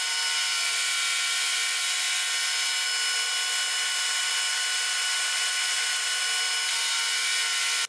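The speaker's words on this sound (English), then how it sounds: "So I'm going to go back to the spiral upcut bit to make these mortises." A Shopsmith Mark 7 with a spiral upcut router bit cuts mortises for a Hoosier step stool, making a steady, high, droning whine that holds constant for about eight seconds without a break.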